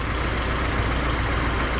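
A 1991 BMW E30 engine runs right up close, a loud, steady idle with a dense, noisy hum and no variation across the short stretch.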